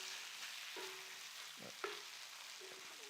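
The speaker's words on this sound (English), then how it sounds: "Folding this all together so that the cheese is throughout" A spatula works cheesesteak filling and melting cheese together on a hot griddle, giving short scraping strokes and a sharp clack over a soft, steady sizzle, with no one talking.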